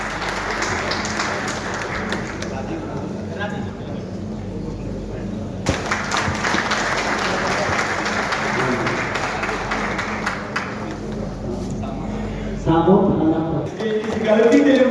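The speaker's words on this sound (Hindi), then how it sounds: "तालियां बजती रहनी चाहिए।" Applause fills a farewell ceremony for a DSP in Begusarai, with dense, steady clapping from a crowd throughout and a voice rising over it near the end.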